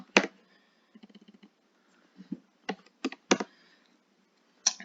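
Typing on a computer keyboard, close and clear: a burst of quick keystrokes, then scattered single clacks and short pairs with pauses between, no voice.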